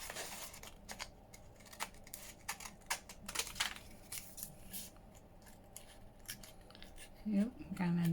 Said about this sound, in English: It's so easy to get off track with these scissors.